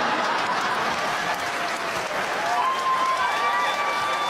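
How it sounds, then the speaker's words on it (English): A comedy show audience breaks into sustained applause mixed with a few chuckles, a steady crowd clapping that stays fairly even throughout. "She got a round of applause for that one."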